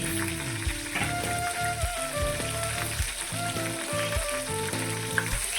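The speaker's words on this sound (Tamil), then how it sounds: "பச்சை மிளகாவை லேசாக வதக்கி" Green chillies and curry leaves frying in hot oil for chicken biryani, a dense crackling sizzle with rhythmic stirring taps over a constant hiss, close and loud.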